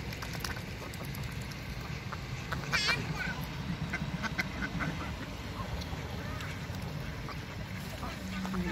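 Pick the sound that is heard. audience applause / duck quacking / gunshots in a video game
duck quacking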